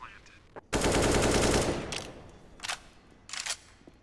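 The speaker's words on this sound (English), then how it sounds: "That's an AK." Automatic AK rifle fire in Counter-Strike during an ESL Pro League esports match: one loud sustained burst, followed by a few short, quieter bursts.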